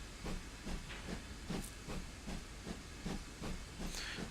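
A GWR Manor Class steam locomotive chuffs with rhythmic exhaust beats at a steady, moderate pace, with faint hissing steam throughout and a brief higher hiss near the end.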